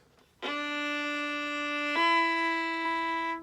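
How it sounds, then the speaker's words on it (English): A bowed viola sounds two sustained notes connected smoothly in one stroke, the second slightly higher, ringing clearly with no talking. "So I slurred 2 notes in one bow."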